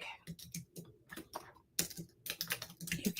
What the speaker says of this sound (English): I'm going to type this out.